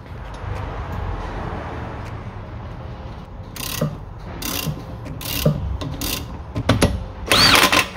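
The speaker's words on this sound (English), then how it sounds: "We get the bolt back on there, tighten it up, finish the job off" A ratchet tightens a bolt during a rear coil spring replacement on a 2017 Vauxhall Zafira, giving several short bursts of clicking that come close and get louder toward the end, over faint workshop background noise.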